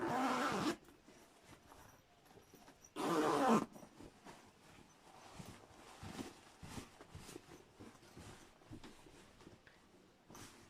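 A zipper is pulled shut on a sewn fabric organizer, with two loud bursts of zipping followed by quieter rustling and handling of the fabric.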